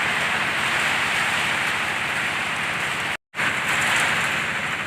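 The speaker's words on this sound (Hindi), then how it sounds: "बारिश भी बहुत तेज़ हो चुकी है, हवा के साथ बारिश पड़ रही है" Heavy rain driven by wind during a daytime storm in Sambhal, Uttar Pradesh, a dense steady roar of downpour that fills the whole clip, briefly cut to silence near the end before resuming at full strength.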